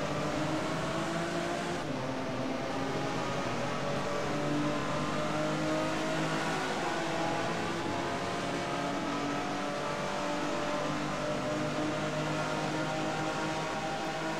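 BMW M3 E36 race car at Nogaro circuit braking and then re-accelerating, its engine a steady loud roar with shifting revs, continuous and close with no talk.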